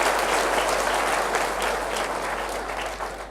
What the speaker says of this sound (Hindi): जोरदार तालियां बजा दो आप उसका।